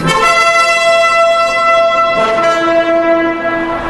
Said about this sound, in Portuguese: tocaram a corneta e o povo gritou